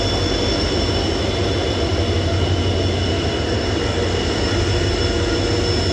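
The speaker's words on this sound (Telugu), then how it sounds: "మాల్గాడి వెళ్తుంది" A goods train hauled by a WDG4 diesel locomotive from the Kazipet shed, pulling old rakes, rumbles past loudly and steadily at a station near Lingampalli, with a continuous roar and faint high tonal whine throughout.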